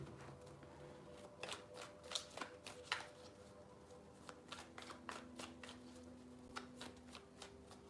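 A deck of tarot cards being shuffled in quick riffling bursts, several rapid flutters in a row, close and fairly quiet, with no talking.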